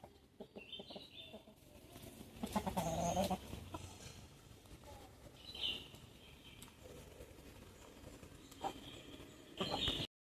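Hens cluck and cackle in bursts, with a louder flurry partway through and scattered barnyard noise, moderately close.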